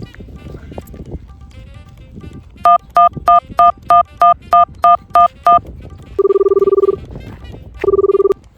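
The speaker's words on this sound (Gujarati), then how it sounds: "હાલ એક ભાઈબંધને ફોન કરું." A string of eleven evenly spaced telephone keypad tones dials a number, followed by two longer steady ringback tones, loud and close, with a Gujarati comedy sketch's room sound between them.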